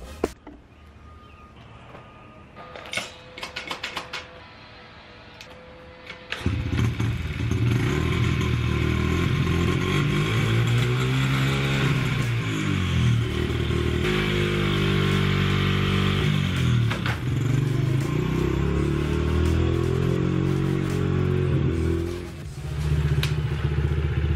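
Dirt bike engine at a backyard dirt track, first a few clattering starting attempts and then catching into a loud, close, sustained roar with rising and falling revs for about twenty seconds.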